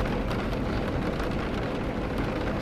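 Steady rain falls outside, a dense, even hiss of drops with no breaks, close and continuous throughout without any talking.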